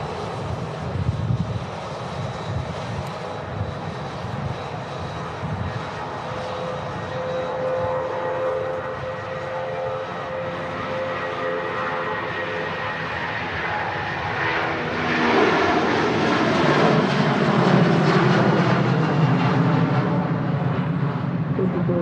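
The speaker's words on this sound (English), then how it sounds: "Loud and close. The Jet2 757." A Jet2 Boeing 757 takes off at Manchester Airport, its engines roaring loud and close and swelling louder toward the end as it climbs away.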